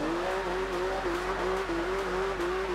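Rear-wheel-drive car drifting through a roundabout in Forza Horizon 2, a steady high engine drone with faint tire squeal, loud and continuous with small pitch dips as the throttle shifts.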